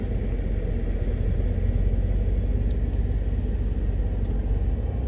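A 2022 Ford F150 with a Whipple-supercharged 5.0L engine on a test drive, a low steady engine rumble heard from inside the cab, continuous and fairly quiet with no talk.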